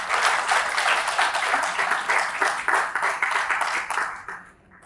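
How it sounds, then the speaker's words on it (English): An audience at a trust's address gives a strong, even round of applause for several seconds, fading out at the close. "a big round of applause also if you can"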